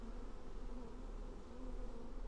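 A swarm of bees hums steadily at a hanging mass of dark yellow honeycomb in a cave, a continuous low drone with no gaps, faint and even throughout.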